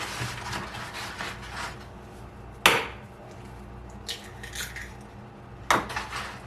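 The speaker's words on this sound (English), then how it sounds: "I'm going to break in 6 eggs" Eggs cracked against a hard edge for spinach egg pasta, two sharp isolated cracks a few seconds apart over a quiet kitchen hum, with faint light tapping in between.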